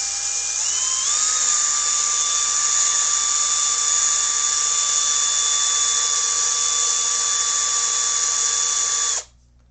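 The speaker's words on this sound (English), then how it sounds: "if you have a cordless drill, you can chuck this in your drill" A cordless drill spins steel wool loaded with metal polish, giving a steady, close motor whine that rises slightly in pitch early on, holds for about nine seconds with no talk, then cuts off.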